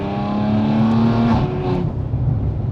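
An Audi RS5-R ABT with 510 horsepower, its engine and exhaust in sport mode, a loud, steady note that climbs and then fades as it moves off, echoing against mountains, with no talking.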